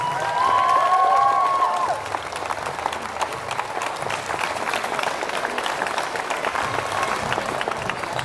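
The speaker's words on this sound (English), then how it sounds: "Big round of applause." An audience at a youth lead-climbing championship final breaks into sustained clapping, opening with a loud burst and a whistle-like cheer, then settling into steady applause that continues to the end.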